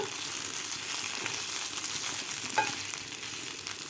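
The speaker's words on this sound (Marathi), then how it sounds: "व्यवस्थित आपण हलवून घेतलेला आहे" Stuffed okra (bharli bhendi) is stirred in a pan on the stove. A continuous, fairly soft frying hiss fills the clip, with faint scraping from the stirring underneath.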